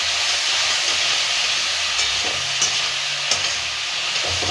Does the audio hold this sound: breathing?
no